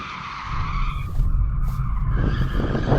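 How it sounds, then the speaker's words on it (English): A BMW M8 in rear drive only mode skids, its tyres squealing in a sustained screech over a rising engine roar that grows louder and rougher after the first half second. "Before we race, we should probably warm up the tyres."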